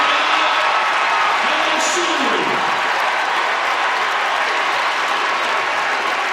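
A basketball crowd at a VCU versus LSU game cheers and applauds in a dense, loud, continuous roar of clapping and voices that fills the arena throughout.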